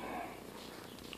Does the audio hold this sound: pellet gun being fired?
no